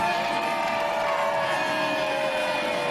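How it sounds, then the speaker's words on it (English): Hometown crowd roaring steadily at a women's sabre world championship gold medal final in Moscow, a dense continuous wash of cheering voices filling the arena with no break. "hometown crowd"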